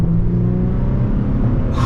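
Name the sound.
Infiniti G35/G37 engine revving after a downshift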